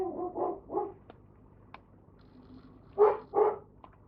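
Dog barking indoors in short bursts, three quick barks then two more after a pause, fairly close and moderately loud.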